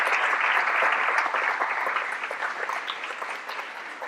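Audience applause for top ten honored students at a school recognition and board meeting: a full, even round of clapping that holds steady, then slowly eases off.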